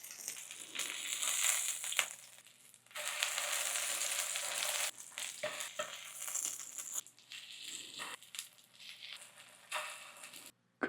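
Zucchini and thin slices of meat jeon sizzle in a pan over fairly high heat, a crackling hiss in long bursts broken by short pauses and clinks of turning.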